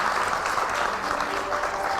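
Studio audience applause on a television show, a dense steady wash of clapping that runs throughout at moderate volume, with no speech over it.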